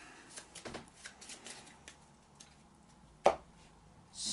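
A deck of Arkham Horror game cards is shuffled close up in soft, quick riffling bursts, followed by a sharp card snap and a faint rustle.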